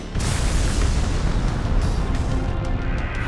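A Tail Peace Bomb attack in an anime battle lets loose as a massive, roaring explosion, a dense continuous blast that fills the whole stretch at full loudness with no voices.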